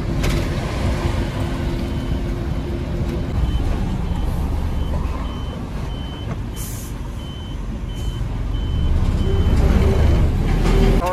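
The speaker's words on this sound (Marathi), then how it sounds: "पाहिलं का वटाण्याची गाडी, तर ही औरंगाबादवरून क्रॉसिंग होऊन चालली" A truck loaded with peas passes on a road near Aurangabad, its engine rumbling loud and steady throughout, with reversing beeps and mechanical clatter over the traffic noise, swelling again toward the end.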